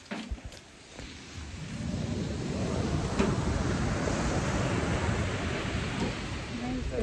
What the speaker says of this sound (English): Big waves. Big waves in White